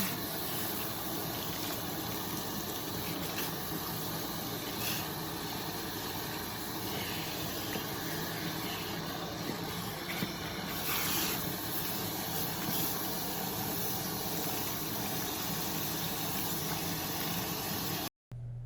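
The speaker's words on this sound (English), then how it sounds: "And whenever I rinse out bleach, I always like to use like lukewarm water." Lukewarm water streams from a salon basin sprayer to rinse bleach out of blonde balayage hair, a soft, even, continuous hiss that runs without pause and then cuts off abruptly at the end.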